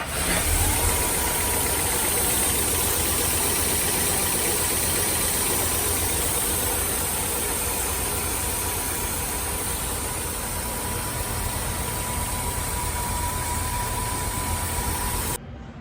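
An old Rolls-Royce engine, running again after 15 years, idles steadily and loudly for the whole stretch with a constant mechanical drone and no talking.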